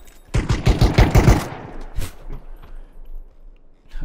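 A rapid, loud burst of automatic gunfire in the video game PUBG, followed by a single fainter shot and low background rumble.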